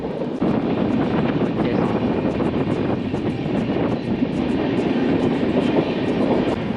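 The Tamil Nadu Express (12621) runs steadily near Warangal with a constant broadband rumble and rattle, loud and close, plus some wind buffeting the microphone.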